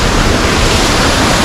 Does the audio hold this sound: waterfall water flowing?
yes